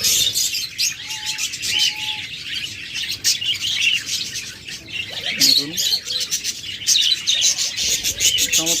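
Pet birds in a cage, a pair of rainbow lorikeets among others, chirp and tweet in a steady, busy chorus up close, with short whistled notes and occasional cooing underneath.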